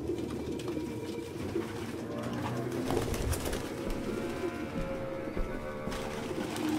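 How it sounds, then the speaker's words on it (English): Pigeons coo in a cluttered room in the video game Detroit Become Human, a dense, low, steady murmur of many birds close by, with no talking. "No human could live with all these fucking pigeons."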